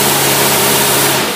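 An engine with a matched pair of AFB carburetors revs hard on a dyno. The roar is loud, dense and sustained, with a slight drop at the very end.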